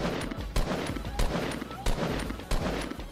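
Gunfire in the video game Fortnite, with several sharp shots at roughly even intervals over a busy, loud game soundscape.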